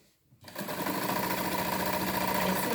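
A sewing machine starts up after a short quiet moment and runs in a fast, even mechanical chatter of stitching, close and steady, with no talk over it.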